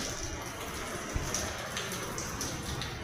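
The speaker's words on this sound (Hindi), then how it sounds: "ये अंडा भुर्जी है और बाहर बहुत तेज़ बारिश हो रही है।" Heavy rain and wind outside during a storm make a steady, dense wash of noise with a few louder drips, heard from indoors where egg bhurji is being cooked.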